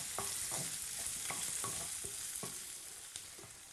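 Fish pieces for a fisherman's pie fry and get stirred in a pan, a continuous hiss of sizzling broken by repeated rhythmic scrapes of a utensil, close up with no voices.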